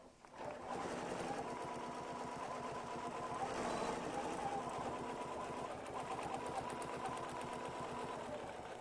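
Sewing machine running steadily while stitching a quilt block a quarter inch from the edge, a continuous close mechanical whir with rapid needle rhythm across the whole span.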